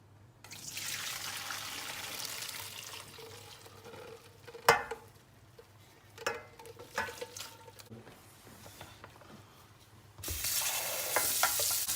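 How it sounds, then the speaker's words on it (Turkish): Cooked spaghetti being drained in a home kitchen, with a steady wash of pouring water and splashing, a few sharp knocks and clatters midway, then a louder rush of running water near the end. "Hemen makarnayı süzmeye geçiyoruz."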